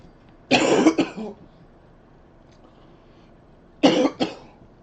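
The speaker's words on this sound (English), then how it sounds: "Still fighting this cough." A man's cough comes in two short bursts of two or three hacks each, one early and one near the end, with quiet between them.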